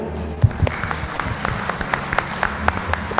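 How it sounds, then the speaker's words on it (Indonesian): An audience at an Indonesian gathering claps together in a dense, steady patter of many hands, moderately loud and sustained throughout with no talking over it. "boleh nggak kasih tepuk tangan buat perjuangannya Bapak Ibu?"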